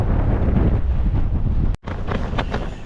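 Strong gusts roar across a wild camp, buffeting the tents and blasting the microphone with a loud, continuous rumble that drops out for a moment before it surges back.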